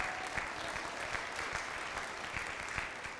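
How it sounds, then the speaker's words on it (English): At a winter band concert, the audience gives the kids a round of applause, a fairly quiet but dense, continuous clapping with a few distinct close claps popping out of the sound. "give those kids a round of applause"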